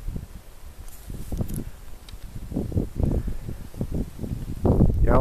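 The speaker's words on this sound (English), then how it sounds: "I can't do nothing about the wind" Gusty wind in Lincoln, New Mexico buffets the microphone in uneven rumbling bursts, rising and falling, with a faint rustle throughout and no speech.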